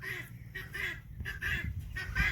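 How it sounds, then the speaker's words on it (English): A guinea hen calling repeatedly nearby on a farm, with harsh, rhythmic, honking cries coming in quick bursts over faint background noise. "That noisy bird you hear is a Guinea hen over there."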